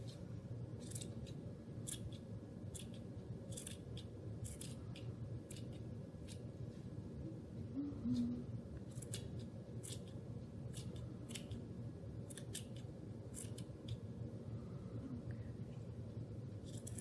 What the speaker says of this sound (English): You're gonna trim a lot of yarn off before you get it to be the right shape.